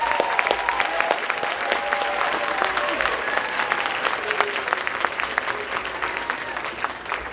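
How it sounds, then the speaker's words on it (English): Sustained audience applause after a children's collaborative concert, a dense, even wash of clapping from a large crowd lasting several seconds, with scattered voices underneath. "Give these kids one more round of applause,"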